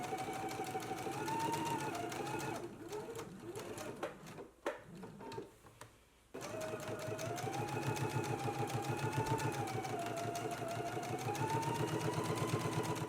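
Sewing machine running steadily to top stitch a quarter-inch seam on a dress collar, a fast rhythmic motor whir broken by a short pause and a few handling clicks before stitching resumes at a steady loud pace.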